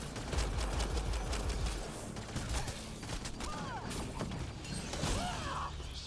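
Enemy shooters fire a rapid burst of gunshots up close, then scattered shots and crashes continue amid whooshing effects at a moderate level.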